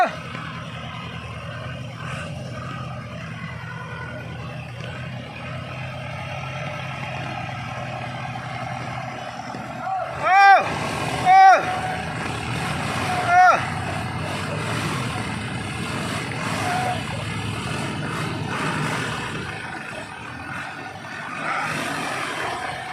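A Ford farm tractor engine labours steadily while trying to haul a trailer stuck in mud, a continuous low drone broken by several short, loud squealing bursts in the middle.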